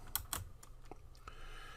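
Soft, close clicks of typing on a computer keyboard, a few sharper keystrokes among lighter taps, quiet and irregular with no voices.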